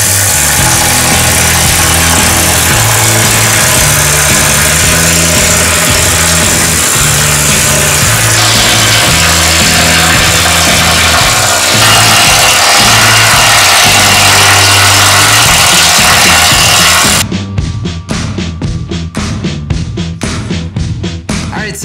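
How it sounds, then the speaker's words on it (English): A needle scaler pops heavy rust scale off farm equipment with a loud, continuous harsh buzzing clatter close by. It cuts off near the end, leaving fainter intermittent tapping. "So I used the needle scaler to pop off all those big nasty cancerous rust chunks."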